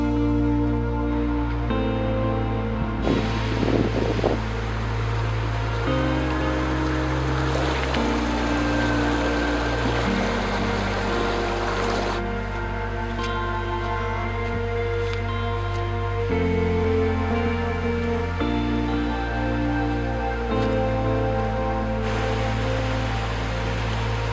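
A waterfall in French Polynesia pours in a steady, broad rushing wash of water, loud and continuous throughout with slight shifts in tone.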